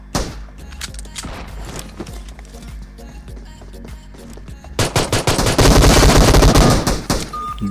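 Rapid bursts of pistol fire in a shooting video game, loud and close, with a denser, heavier stretch of repeated shots toward the end over game sounds.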